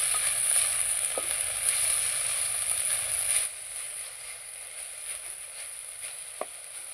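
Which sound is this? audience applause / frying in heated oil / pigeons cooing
frying in heated oil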